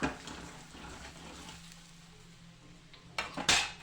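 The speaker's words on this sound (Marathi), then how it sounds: "हे मसाले आपल्याला छान असे परतून घ्यायचे" Black masala spices are sautéed in a pan for varan, giving a low sizzle with faint stirring scrapes. Louder clinks of a utensil against the pan come near the end.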